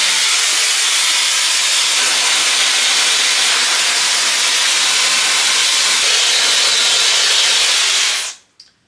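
Hair dryer blasting air over damp hair, a loud, steady close-up whoosh that holds evenly for about eight seconds and then cuts off, with no speech.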